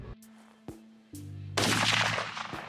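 A hunting rifle fires at a hyena during a hunt in Zimbabwe, one loud, close blast with a long rumbling tail, preceded by short clicks and a low steady tone.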